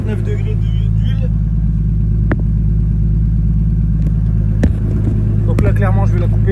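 A car engine runs steadily with its exhaust noise loud and close throughout, a low constant rumble with a couple of brief sharp knocks, while someone talks over it.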